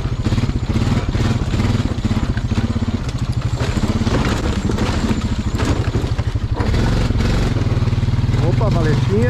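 Quad bike engine on a hard-packed dirt trail, the quad having some running problems: a loud, close, rapidly pulsing putter that holds steady and then shifts pitch near the end, with a voice speaking briefly over it.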